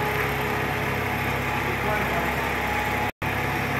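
An old forklift engine runs steadily in a shop, a continuous dense mechanical drone that stays at an even, fairly loud level with a brief break near the end.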